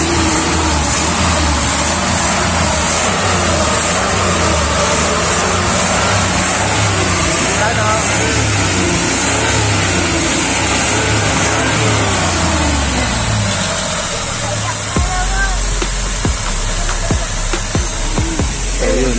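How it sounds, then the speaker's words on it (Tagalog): A car engine runs steadily at close range after a mechanic's repair, a continuous mid-pitched hum with some revving, and the tone shifts near the end. Voices talk over it in places. "Yung andar na makina."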